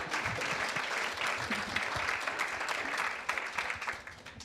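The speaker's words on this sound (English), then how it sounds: "Let's give a round of applause for all of our immigrants." Audience applause at a San Francisco Climate Week 2023 panel, honoring immigrants: dense, steady clapping from a crowd, loud and sustained throughout, thinning slightly toward the end.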